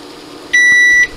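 A kitchen timer beeps once as it is set, a single loud, steady electronic tone lasting about half a second over faint room noise.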